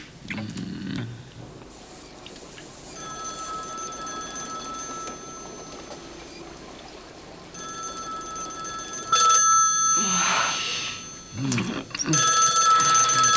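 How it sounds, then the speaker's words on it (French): An old-style telephone bell rings in repeated bursts in a 1990 French TV film, sounding indoors at moderate volume, with people talking between and over the rings and a louder ring near the end. "Alors, Terry, le téléphone!"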